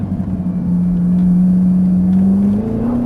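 Car accelerating hard on a race circuit during a track passenger ride, a loud steady engine drone rising in pitch near the end, heard close from inside the cabin.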